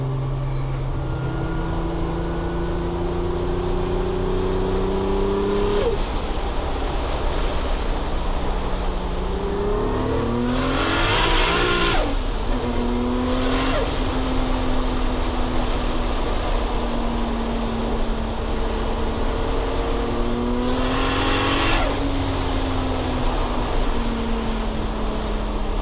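A Lexus IS300 fitted with a 1JZ turbo engine revs at light throttle, its pitch climbing and falling through several steady pulls with sharp bursts of turbo whoosh between them, loud and close with no talking.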